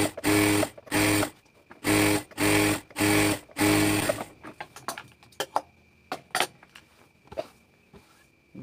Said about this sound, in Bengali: এখানে গায়ে এখন আরেকটা চাপ সেলাই আমরা এখানে দিয়ে দিব এক চাপ ধরে